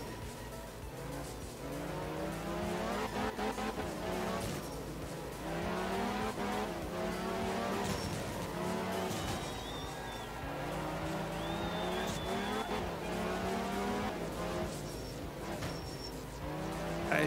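A rally car in the Art of Rally video game slides through a twisty track, its engine droning steadily while tires squeal and skid in repeated bursts, loud and continuous for the whole stretch.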